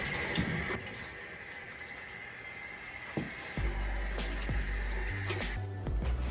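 Tap water runs steadily into a sink as hands are washed in a home kitchen before cooking, with faint splashing and handling sounds breaking the flow near the end.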